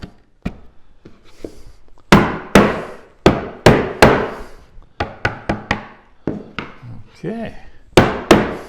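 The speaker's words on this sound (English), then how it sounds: "What I'm doing now is pounding the stile" Repeated loud, sharp knocks as a wooden door stile is pounded down onto its rails during a door repair, struck in uneven bursts of single and quick double blows, with a brief spoken word at the start.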